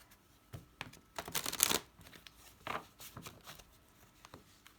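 Tarot cards shuffled and added to a deck in a few brisk riffling bursts, loudest in the middle, with softer rustles and taps before and after and no talking.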